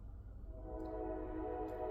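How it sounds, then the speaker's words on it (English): A train passes nearby as a steady low rumble with a sustained horn-like tonal drone that grows slightly louder over the span. "Train right on cue"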